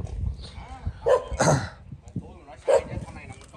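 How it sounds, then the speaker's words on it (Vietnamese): A dog barks a few times at a wrecked-car yard in Lâm Đồng. The barks are short and close, and people talk over them. "con này là con chó đúng không"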